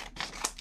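Scissors snip through printed paper, cutting it in half, with a few quick close crisp cuts in a quiet room.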